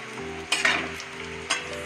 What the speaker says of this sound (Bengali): পেঁয়াজগুলো একটু ভালো করে ভেজে নেব।